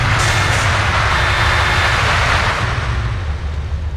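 A train rumbles past in the video game GTA San Andreas, a steady, loud, broadband roar that holds for several seconds and then eases slightly, with no speech.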